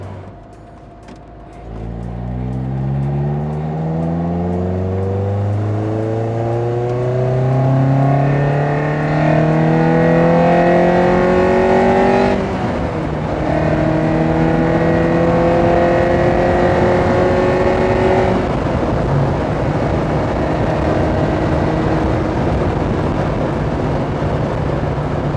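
A Lotus Elise S1 sports car driving with its roof off, the engine loud and close, climbing through rising revs in repeated pulls with a gear change between them.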